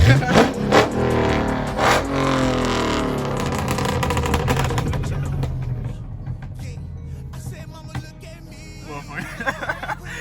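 A Dodge Charger Pursuit exhaust crackles with sharp pops, loud and close at first, then a rougher engine note settles lower, with faint voices and a chuckle in the background.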